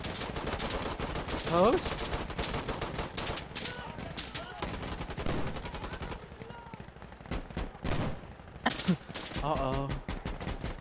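Gunfire in Insurgency: Sandstorm, rapid bursts of automatic rifle shots and single cracks, some near and some distant, with people talking over the shooting.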